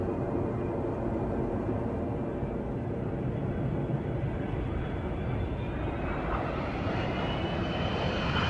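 Airbus A320 airplane taking off from a runway: a continuous loud jet engine roar with a whine that slowly rises in pitch as it powers up, steady and close throughout.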